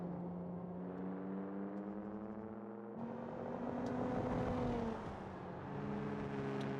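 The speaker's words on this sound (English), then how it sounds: "the safety car rounds the corners one more time" A safety car laps a Formula Three race track, heard as a steady, muffled engine drone from on board whose pitch shifts and swells partway through, with no talk.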